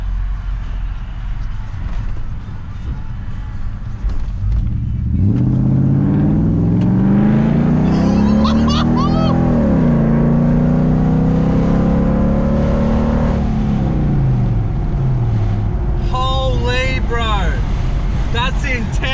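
Toyota Land Cruiser 100 series V8 engine revs up loudly and holds a rising, sustained roar before easing off, with voices talking over it near the end.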